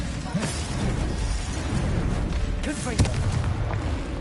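Booming spell blasts and bursts crack and explode in a Hogwarts Legacy duel, loud repeated impacts in quick succession with voices calling out over the fight.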